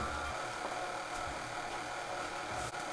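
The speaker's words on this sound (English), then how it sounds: "While I wash my hands" Steady broadband rush of a kitchen tap running as hands are washed, a continuous close hiss with faint hum beneath and no pauses.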